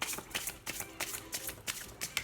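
Rapid, soft papery riffling of oracle cards being shuffled, a quick repeating flutter of short bursts, close and fairly quiet with no talking.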